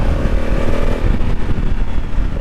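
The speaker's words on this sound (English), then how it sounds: "So those exhaust tones you're actually hearing are from the parallel twin" A 2020 Honda Africa Twin's parallel-twin engine with 270-degree crank rumbles steadily through its exhaust, a continuous deep, loud throb that stays close.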